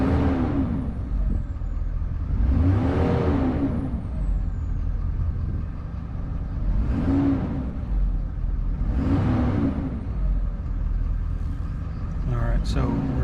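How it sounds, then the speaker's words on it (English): A pickup truck's engine, which is losing turbo boost, is revved four times in slow, rising and falling swells over a steady idle rumble, close and loud. "I had the beautiful wife revving the engine"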